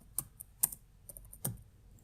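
Fingers tap on a computer keyboard while a Fiverr search is entered, giving a few quiet, sparse keystrokes spaced about half a second apart, heard close and alone with no talking.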